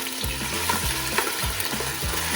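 Meat sizzling as it sears in a hot pan for nihari, a dense steady crackle with a few soft thumps of tongs on the pan, no talk.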